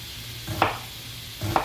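An onion is sliced with a knife on a cutting board, two crisp cuts about a second apart, close and clear, with no speech.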